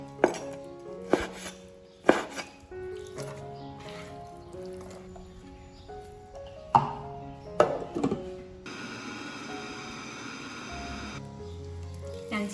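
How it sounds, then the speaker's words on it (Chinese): Pork leg meat is chopped into small pieces with a handful of sharp, spaced knife strikes on a board, then a steady whirring grind of mincing takes over for the final few seconds. "先把它切成小块，再打成肉末"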